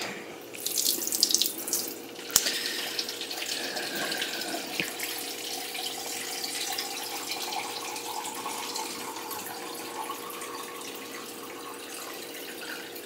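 A kitchen or bathroom tap runs steadily for several seconds, water splashing into a sink with a continuous hiss, close and moderately loud, with a brief clunk early on and no voices.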